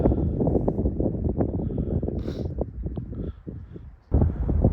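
Strong, steady wind buffeting the microphone on a jagged mountain peak after a steep six-mile hike near Los Angeles, a loud roaring rumble that dips briefly before surging back.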